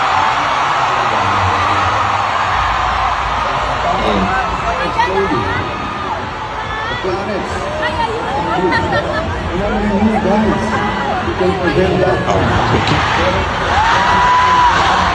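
A large crowd of young people at a political rally shouts, whoops and chatters continuously, with voices rising and falling in a loud, dense mass of yelling.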